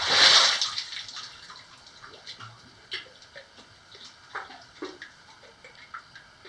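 A rock thrown into water in a flooded, abandoned Nevada mercury mine lands with a loud close splash. Sparse echoing drips and small lapping ticks follow in the quiet cavern for several seconds.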